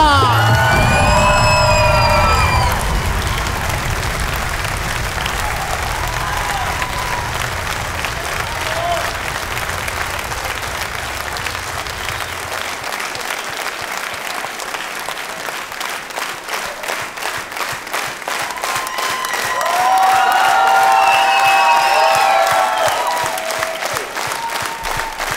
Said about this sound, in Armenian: Շնորհակալ եմ ծափարությունների համար